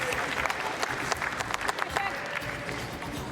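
Applause ripples through the crowd at a bowls final, a dense run of clapping with a few sharper individual claps standing out, fairly close and unbroken by speech.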